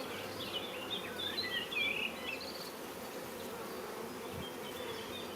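Honey bees at an apiary hive hum in a steady, dense drone, close and continuous throughout, with faint outdoor chirps drifting over the buzzing.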